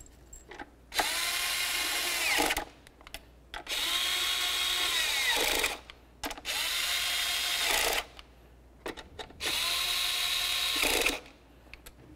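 A power tool whirs in four separate bursts of about two seconds each as it snugs the bolts on a 2008–2012 Chevy Malibu throttle body. The bursts are close and quiet, with pauses between them.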